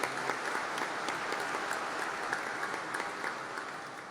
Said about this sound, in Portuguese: Salva de palmas, que é um amigo muito querido.